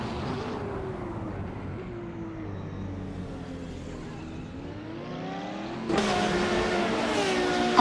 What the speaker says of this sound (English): Nuts is driving a 2019 BMW M8 GTE